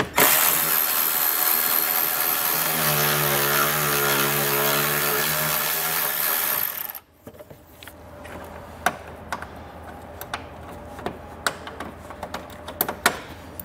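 A power tool whirs loudly and steadily for several seconds while removing a 10 mm bolt on a 2022 Jeep, then cuts off, leaving scattered faint clicks and handling knocks.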